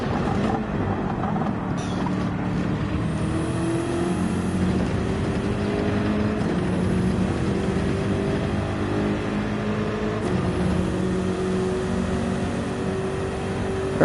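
Race car engines in the video game Gran Turismo 7 drone steadily through a final-lap battle, with pitch sweeping upward as the cars accelerate and a few abrupt tonal jumps, loud and constant without talk.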